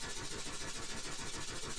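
Steam engine running in the Steam Engine Simulator game at around 400 RPM, a steady rhythmic chuffing churn with fast regular pulses, moderately loud and continuous with no talking.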